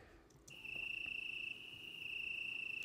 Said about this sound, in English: let's do one more layer of crickets